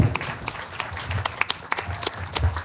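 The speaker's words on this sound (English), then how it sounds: "let's give all our heifer exhibitors a big round of applause." A crowd applauds the heifer exhibitors at the Knox Fair beef show, sustained clapping from many hands in an arena, fairly distant and steady, with no voices over it.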